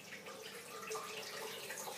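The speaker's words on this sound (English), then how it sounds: "we need 430 grams of water, warm water" Warm water runs from a tap into a container on a kitchen scale while pizza dough is being prepared, a steady close hiss and splash lasting the whole moment with no talk.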